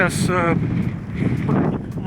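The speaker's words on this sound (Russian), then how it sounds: "свежо, ветерок дует" Outdoors by the water in Argentina, where catamarans are about, a fresh breeze buffets the microphone with low, gusty rumbling, and a voice speaks briefly over it.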